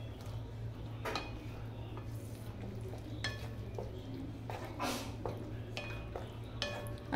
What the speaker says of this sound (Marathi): आता मी याच्यामध्ये पनीर टाकते